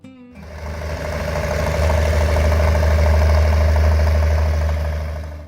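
An Allis-Chalmers D17 mid-sized farm tractor starts up and settles into a steady, throbbing idle, its low engine drone swelling slightly and holding even and close throughout.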